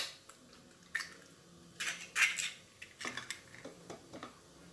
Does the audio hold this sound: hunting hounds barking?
no